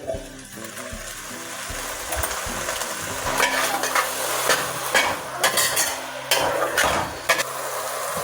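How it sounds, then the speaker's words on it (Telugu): Pumpkin pieces and thinly sliced tomatoes cook in a pan, giving a steady close sizzle with scraping stirs and light clinks of a utensil against the pan, and no talking. "గుమ్మడికాయ ఇలా కొంచెం మగ్గిన తర్వాత మనం ఇలా సన్నగా కట్ చేసుకున్న టమాటాలు కూడా వేసుకోవాలి"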